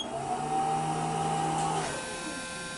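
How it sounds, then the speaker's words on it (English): Vintage photo booth machine powering up after being plugged in, a loud whirring motor hum with a steady rising tone that cuts off and settles into a lower mechanical drone near the end. "I'll plug it in so you can hear what it sounds like when we plug it in, because it sounds like a time machine."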